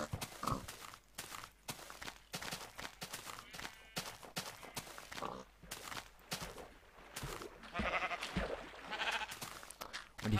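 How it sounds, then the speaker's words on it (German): Sheep bleating in the Minecraft video game, several short blocky calls spaced through the clip over a busy layer of game effects and footsteps, fairly close and moderately loud. "Scheiß Schaf, Mann"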